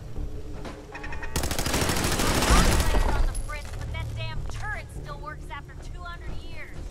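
Gunfire in the video game Fallout 4, a burst of rapid automatic shots building to a loud peak, then fading as scattered chirpy game sounds and voices follow.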